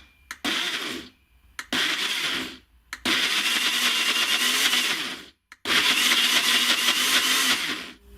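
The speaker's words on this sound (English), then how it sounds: "Now get 500 grams of mango. We want to puree this." A blender purees 500 grams of mango in four loud, close bursts of whirring motor noise, each cut by short silent pauses, the last two runs longer and steadier than the first.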